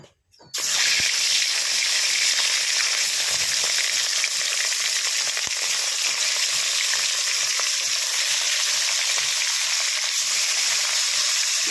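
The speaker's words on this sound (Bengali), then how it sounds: "কড়াই বসিয়ে দিয়েছি তেল দিয়েছি গরম হয়ে গেছে তেল এবার মাছগুলো ভেজে নেব" Katla fish frying in hot oil in a wok, a loud, steady, close sizzle and crackle that starts abruptly after a brief quiet moment and holds without a break to the end, with no voices.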